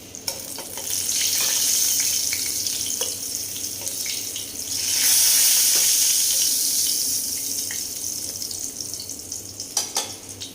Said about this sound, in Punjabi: ਵਧੀਆ ਤਲੇ ਗਏ ਆਪਣੇ ਕਰੇਲੇ